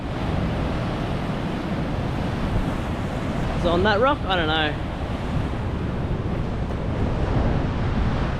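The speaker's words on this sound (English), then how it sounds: "Day 5 and day 6 definitely had the biggest waves" Ocean surf breaks steadily along the shore at Noosa Heads, Queensland, with heavy wind buffeting the microphone, and a voice speaks briefly over the roar midway.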